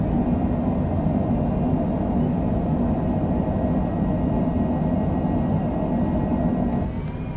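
Jet thrust reversers roaring on a landing rollout at Orlando Executive, heard from inside the cabin as a loud, steady low rumble that fills the whole stretch and eases slightly at the very end.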